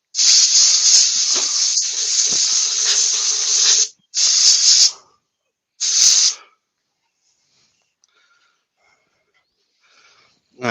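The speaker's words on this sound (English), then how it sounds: "I bet the bloody compressor comes on." Air compressor in a workshop hissing loudly as it runs, a long steady blast followed by two shorter bursts, then near silence with faint small noises.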